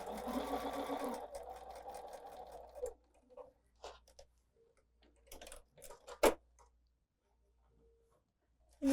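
A sewing machine stitches a quarter-inch seam in a quilted pumpkin block, running fast for about three seconds before stopping, then light ticking and fabric handling follow quietly.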